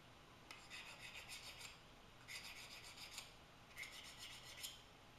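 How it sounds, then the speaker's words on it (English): A file rasps against a pottery trimming tool to restore its edge, three distinct bursts of scraping strokes with short pauses between, close and quiet with no talking. "every now and again you need to go over your trim tools, don't you, just to bring back the edge a little bit."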